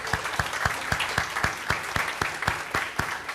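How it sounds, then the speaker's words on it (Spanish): A church congregation claps in unison, a brisk, regular beat of sharp hand claps at roughly three per second, close and fairly loud, with no voices over it. "aplaudámosle al Señor"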